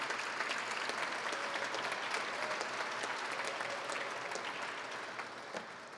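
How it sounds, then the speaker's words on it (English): An audience at a community cabinet event at Johnson & Wales University gives a round of applause, a fairly faint, steady wash of clapping that tapers off toward the end. "So would you join me in giving the people of Denver a round of applause for this type of engagement?"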